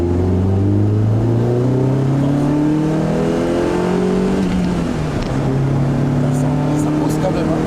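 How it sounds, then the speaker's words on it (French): A Lotus Elise S1 engine heard from inside the cabin, loud and close, revving up through rising pitch sweeps across several gear changes under heavy acceleration, with faint talk in the car. "on entend le bruit du moteur à l'intérieur"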